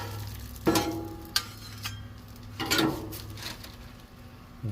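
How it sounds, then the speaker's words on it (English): Caramelized onions dropped onto a hot Blackstone griddle for a patty melt, a low steady sizzle broken by a few sharp scraping and tapping bursts from the spatula, close up with no talking. "we're going to get our caramelized onions on there"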